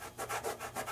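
A carving tool rasps through a foam pumpkin in rhythmic back-and-forth strokes, several soft scratchy sawing passes heard faint and close in under a second.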